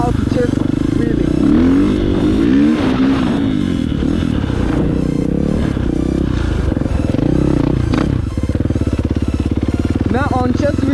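KTM 450 dirt bike engine revving and pulling hard during a wheelie, a loud close buzzing drone with rising and falling throttle sweeps, mixed with wind and rider commentary over it.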